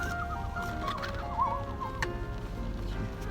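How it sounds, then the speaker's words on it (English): Birds call outdoors around a parked car during a fast food meal, cooing and chirping faintly over a steady low background rumble, with a brief warbling phrase in the middle. "Ambient bird music."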